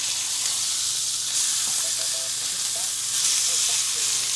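Several steaks crowded into one pan give off a steady, fairly loud sizzle and hiss, with faint clinks of handling partway through.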